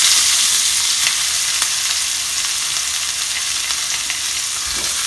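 Onion frying in a pan for a Malvani crab masala, a steady close crackling sizzle that runs evenly and alone for the whole stretch with small spattering pops.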